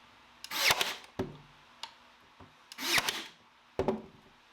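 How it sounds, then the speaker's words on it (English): Nail gun firing into the back edge of a DIY wooden kitchen island, several sharp bursts with hissing air, spaced unevenly in a quiet room. "for extra security I go ahead and nail the edge in the back where you're not going to see it"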